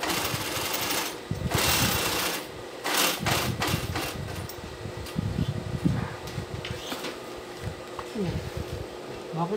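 A sewing machine runs in bursts of rapid mechanical stitching, loud and close, with short pauses between runs, while people talk over it.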